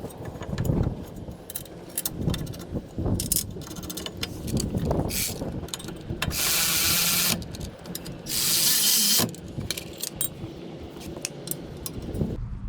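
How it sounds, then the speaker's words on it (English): Ratchet tightening the brake caliper mount bolts on a 2009 Toyota Sienna during a front pad and rotor job: bursts of rapid clicking and whirring with metallic clinks between them, close and moderately loud. "Tightening up my bolts."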